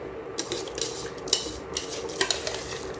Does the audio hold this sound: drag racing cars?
no